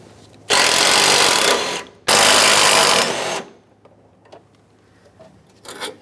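A power tool whirs in two loud, sustained bursts of about a second and a half each while 10mm bolts come out of a cross member bracket on a 2007-2014 Chevrolet Silverado 2500 HD, followed by quiet clinks.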